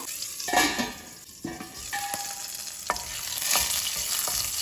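A green chili, fennel seeds, a piece of cinnamon and four cloves fry in hot oil, a close crackling sizzle broken by scrapes and taps of a spoon stirring in the pan.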